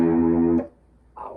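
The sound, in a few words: Guitar riff with chorus effect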